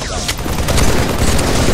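Rapid gunfire from a battle rifle or carbine in the Halo 3 video game, a dense continuous burst of shots filling the short moment, loud and close.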